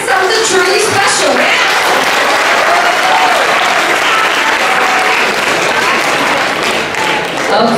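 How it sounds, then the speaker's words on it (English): Sustained applause from an awards-ceremony audience fills the room, a dense, steady wash of many hands clapping at full strength, with some voices mixed in. "Let's clap if everyone believes someone has something truly special."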